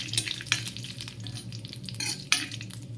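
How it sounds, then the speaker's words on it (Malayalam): Mustard seeds, dried chillies, cumin, curry leaves and fenugreek crackle and pop in hot coconut oil, a steady close sizzle with sharp sputtering bursts and a bit of stirring. "ഇതിലേക്ക് കടുകും ഉണക്കമുളകൊക്കെ പൊട്ടിച്ചിടാം."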